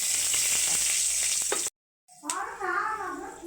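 Whole garam masala with cinnamon, cloves and cardamom, then dried red chili, hitting hot oil for a vegetarian dish: a loud, steady hiss that breaks into silence, then resumes with a fresh burst of sizzling crackle.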